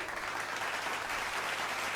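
Steady applause from an audience greeting invited guests at a Green TV farmers' meeting on potato crop management in Shamshabad, a dense, even wash of clapping that holds throughout without a break.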